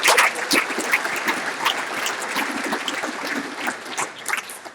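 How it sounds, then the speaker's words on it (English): A banquet audience at a regional wing dinner claps in a sustained round of applause, dense and steady with scattered sharper claps, fairly distant and moderately loud, with no talking over it. "That deserves a big round of applause"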